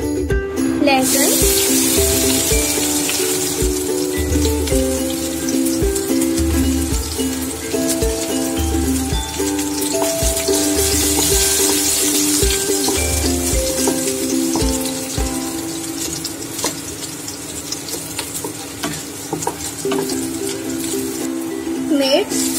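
Garlic sizzling in hot oil with bay leaves and asafoetida for a dhaba-style egg curry, a steady crackling fry that runs throughout with a few clinks and stirring knocks, close and fairly loud.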